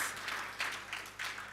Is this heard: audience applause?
yes